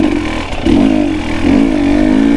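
A KTM 300XC two-stroke woods dirt bike engine, up close and loud, blipping its throttle in repeated revs that rise and hold with a buzzy, raspy tone.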